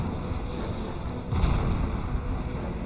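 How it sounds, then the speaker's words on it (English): Oil derrick taking sustained fire in a Red Alert 3 match, a dense, continuous rumble of artillery and gunfire blasts with a heavier swell of impacts midway, loud and close with no talking over it. "Oil derrick now receiving quite a bit of fire."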